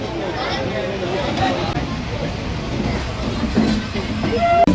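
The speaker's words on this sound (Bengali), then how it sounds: "গাইস এখন আমরা ট্রেনে চেপে গেছি আর এখান থেকে আমাদের জার্নি স্টার্ট।" A passenger train is moving, heard from inside a carriage as a steady low rumble with faint rattles and a soft murmur of people in the background.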